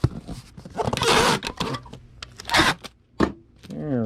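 Packing tape rips off the roll in several loud, scratchy bursts as a vintage advertising poster is sealed, with short pauses between pulls.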